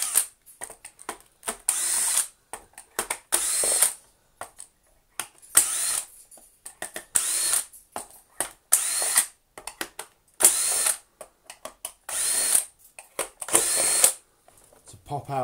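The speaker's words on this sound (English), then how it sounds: "We'll start with the T20 and take out all of the screws." A power driver fitted with a T20 bit backs screws out of a Shark AX950 Apex DuoClean vacuum head, firing in repeated short whirring bursts separated by brief pauses, close and loud.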